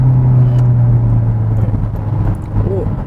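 A Hyundai Avante N facelift with manual gearbox and forged wheels brakes in M mode, its engine a steady low rumble with road noise that eases slightly as the car slows, heard up close from the cabin without talk.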